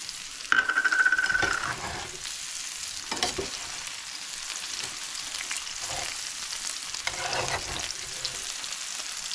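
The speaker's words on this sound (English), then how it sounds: "I want to get the onions infused in the oil that I'm using" Onions frying in oil in a pan for chicken chow mein, a steady close sizzle and crackle with a sharp hiss burst at the start as they hit the oil, then intermittent scraping stirs, no talk.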